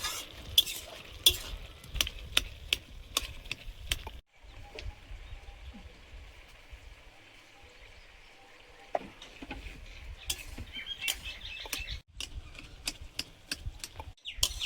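Kakuri (cucumber) cooks in a pan with a soft steady sizzle while a utensil scrapes and clicks against the metal in repeated stirring strokes, quiet and close, with no talking.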